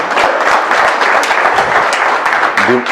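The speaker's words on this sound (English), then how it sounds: "All right, one more round of applause for everybody" A crowd at a leadership keynote applauds loudly and close, dense clapping for the whole stretch, with a brief voice rising near the end.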